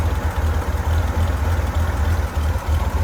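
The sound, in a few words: 1966 Corvair engine running, bored 30 over, competition cam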